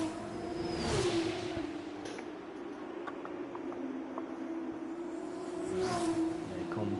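F2 racing cars on a formation lap at the Hungary circuit: a steady, moderate engine drone, with louder swells as cars pass near the start and again toward the end.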